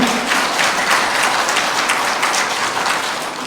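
An audience at a Catholic lecture in an education hall breaks into applause, a full burst of many hands clapping briefly and fairly loudly.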